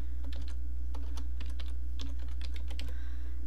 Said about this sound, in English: type in notepad, and it'll open